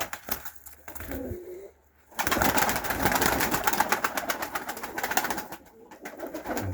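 Pigeons in a Ukrainian pigeon keeper's flock give a few low, soft coos near the start, followed by a loud, continuous rustling and shuffling noise that fills the rest.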